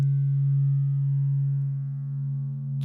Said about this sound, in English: a sine wave subtone